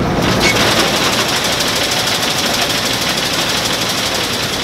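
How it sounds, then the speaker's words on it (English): A combine harvester, its cutter bar sections just replaced, runs loud and close with a dense, rattling mechanical clatter that holds steady throughout. "Sections replaced, back in the combine, getting ready to fire it up."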